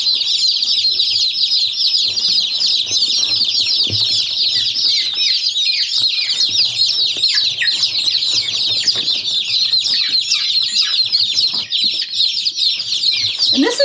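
Baby chicks peep continuously and shrilly at close range while being held by hand, a dense chorus of high chirps with faint handling noise beneath.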